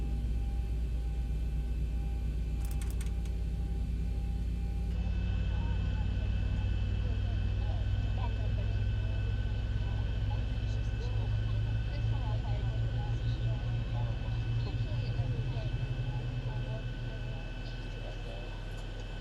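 Boeing 737 engines in the Zibo mod flight simulator make a steady, loud broadband roar with a constant whine. The roar swells slightly partway through and eases near the end, with voices talking over it at times.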